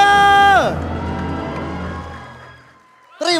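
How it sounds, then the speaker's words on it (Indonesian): Arena crowd at an MPL Indonesia esports match, cheering and clapping in a loud swelling roar after a voice fades, sustained for a few seconds, then quieting before a voice returns near the end. "Mana tepuk tangannya?"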